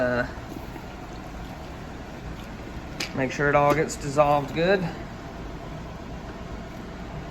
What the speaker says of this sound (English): that bubbling is really just from air escaping from in the ashes